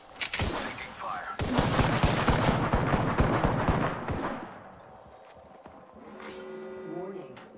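Gunfire bursts in an Apex Legends battle-royale match, loud rapid volleys for several seconds then fading, with in-game voice lines and other game sounds afterward.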